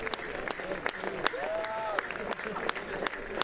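Scattered clapping from a neighbouring game at a bowls national championship in Scotland, a few sharp claps spread across the moment, fairly faint under a voice and outdoor background.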